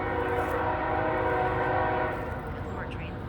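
A passing train sounding its horn, a sustained loud multi-tone blast over the low rumble of the rail cars, fading slightly near the end.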